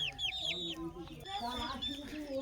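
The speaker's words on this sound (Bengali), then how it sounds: "আর এগুলো কিন্তু সব বনরাজ মোরগ" Banraj roosters and native village chickens cluck and call nearby in quick, overlapping bursts, with a few higher squawks among them.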